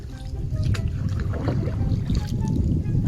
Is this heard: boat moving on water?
yes